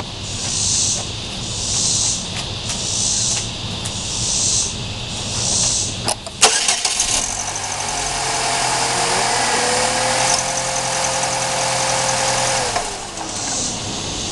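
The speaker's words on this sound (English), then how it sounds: "And now we'll start it and see how it sounds." A 2004 Pontiac Sunfire's 2.2 Ecotec four-cylinder, just fitted with new spark plugs, cranks and catches about halfway through after a stretch of hissy background noise, then settles into a steady, close idle.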